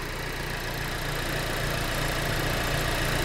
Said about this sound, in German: Hinten brabbelt schön der Auspuff.